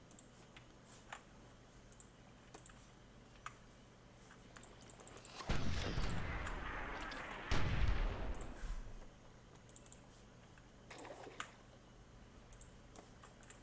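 Mortar fire in the Myth II Soulblighter video game, with two heavy booming impacts that rumble out, scattered ticking clicks around them, and no voices.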